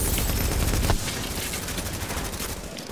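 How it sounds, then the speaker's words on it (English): Dense, continuous gunfire fills a gunfight in the video game Tom Clancy's The Division, with overlapping automatic bursts loudest at first, then easing slightly but staying steady throughout, with no talk. "This is what I fucking call a gunfight"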